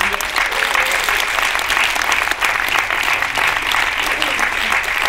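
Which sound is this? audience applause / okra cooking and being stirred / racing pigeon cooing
audience applause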